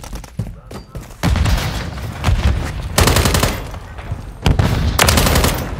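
Gunfire in Call of Duty: Modern Warfare III comes as loud, dense bursts of automatic fire with heavy thumps, rattling in clusters with brief gaps between them.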